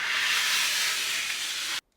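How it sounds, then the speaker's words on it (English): One long, loud hiss of Flash bicarb of soda cleaning spray in a laundry room, sprayed close up as a continuous burst that stops abruptly, with no voices. "I'm using the Flash bicarb of soda spray, which is incredible."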